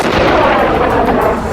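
A missile explosion during an Iranian military exercise produces a loud, close, roaring blast that stays heavy and noisy through its brief second and a half, with no voices.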